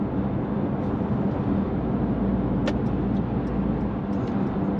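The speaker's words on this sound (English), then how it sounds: "at 70, this car revs to about 1900 RPM" A Mercedes-Benz E300 Coupé cruises on the motorway at 70 mph with its engine turning about 1900 rpm, giving a steady, loud cabin drone of low engine and road rumble that stays even throughout with no talk.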